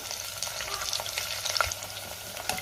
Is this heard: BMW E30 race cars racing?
no